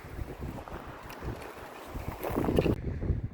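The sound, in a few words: wind on hiking trail, Red Rock Canyon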